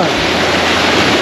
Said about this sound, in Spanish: Ahí sentate para que te caiga el agua.